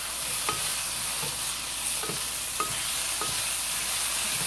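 Onions and peppers fry on a stovetop with a steady, even sizzle, and a utensil clicks and scrapes against the pan every half second or so as they are stirred.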